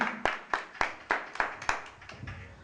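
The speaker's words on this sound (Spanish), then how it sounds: "Dale fuerte el aplauso al Señor esta tarde" A church congregation claps in a steady, rhythmic beat, about ten sharp hand claps spaced evenly and tapering slightly, moderately close with no talking.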